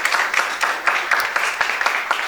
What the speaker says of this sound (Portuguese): Fiquem em pé agora, aplauda bem forte ao Senhor.